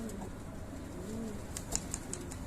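A low, soft pigeon coo drifts up near a loft, joined by a few faint chirps and light clicks toward the end, quiet and somewhat distant, with no voices.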